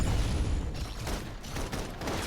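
Gunfire in the video game Love & Deepspace, a steady dense wash of rapid shots and blasts filling the whole moment, loud and continuous.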